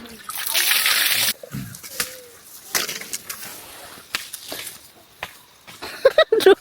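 Water pours in a loud rush for about a second, then splashes and sloshes intermittently, with people talking nearby.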